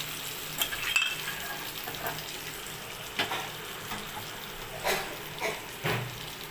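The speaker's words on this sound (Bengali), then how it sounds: "এবার আমি ডালটা ঢেলে দেবো" Dal poured into hot spiced oil for prawn dal sizzles with a steady frying hiss, punctuated by several soft splashy bursts and stirring scrapes as the lentils hit the pan; close and alone, without speech.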